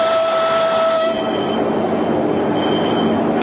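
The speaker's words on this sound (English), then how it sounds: "This train, with its hidden missiles, capable of launching 30 warheads on the move." A Russian rail-mounted missile train rolls past close by, a loud, steady rumble of wheels on track with a brief squeal and sustained tonal whine, no voices.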